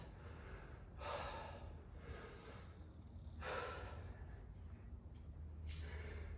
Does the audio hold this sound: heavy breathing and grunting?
yes